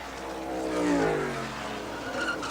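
A NASCAR stock car at the 1987 Miller High Life 500 at Pocono Raceway screams down the front straightaway, its engine roaring loud and close with a falling pitch as it passes.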